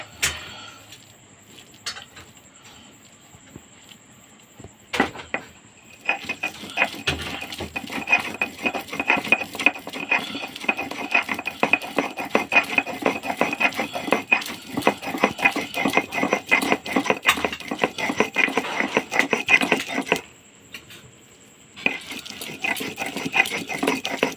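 Kharkol leaves being ground into a paste, heard as a steady, fast rhythmic scraping and rubbing that runs for most of the stretch, with a few sharp knocks early on and quieter handling at the start and end.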